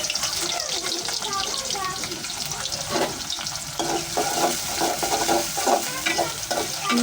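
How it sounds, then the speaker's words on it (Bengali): Garam masala, onions and chillies frying in hot oil while being stirred, a loud, steady close sizzle with a wet, bubbling crackle and frequent scraping as the mixture is turned. "গরম মশলাটা তেলে ভাজলে"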